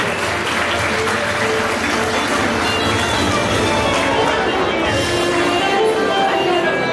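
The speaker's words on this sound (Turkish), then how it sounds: "Teşekkür ediyoruz efendim alkışlarınız için" Sustained crowd applause fills the hall at a religious wedding celebration in Amasya, a dense, steady wash of many hands clapping at full volume from start to finish, with voices murmuring faintly beneath it.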